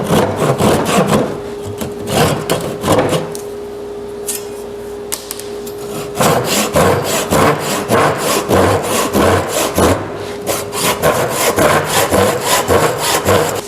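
A handsaw cutting through rotten wood on an old side table magazine rack, fast rasping back-and-forth strokes close by, in two bursts broken by a short pause with light scraping.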